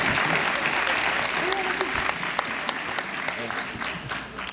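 A hall audience applauding scholars at an awards night, sustained dense clapping with distinct sharp claps popping through, loud and continuous, fading slightly toward the end.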